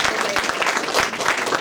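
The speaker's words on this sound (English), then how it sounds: "Give Jody and the team here a round of applause again" A crowd at an early vote campaign rally in Great Neck applauds Jody and the team, dense, fairly loud clapping throughout the short stretch with a few cheers mixed in.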